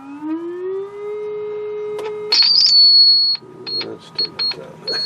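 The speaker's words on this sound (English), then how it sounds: "So you can hear down to 100 hertz" A low test tone plays through the audio amplifier of a Garod 15TZ6 television under restoration, rising slowly in pitch, then cut off by a piercing high tone and a series of short electronic bursts.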